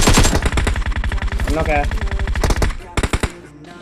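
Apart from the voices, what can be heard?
gunfire in video game PUBG Mobile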